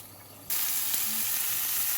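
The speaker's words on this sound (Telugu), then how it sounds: "ఆయిల్ వేడెక్కింది కాబట్టి చెక్క లవంగాలు వేస్తున్నాను" Cinnamon and cloves hit hot oil in a pan for chicken curry, setting off a sudden loud, steady sizzle up close that carries on without talk.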